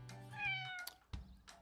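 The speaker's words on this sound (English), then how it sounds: "Oh, that sounds like a kitten." A kitten gives a short rising meow followed by a couple of brief softer mews, close and clear against a quiet background with no talking.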